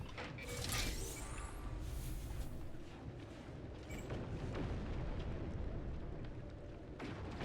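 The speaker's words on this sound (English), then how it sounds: "There's just all kinds of explosions and fighting going on over me" Explosions and combat from the space game No Man's Sky play in a dense, continuous barrage of booms, blasts and whooshing streaks, loud and layered throughout with sharp bursts early on.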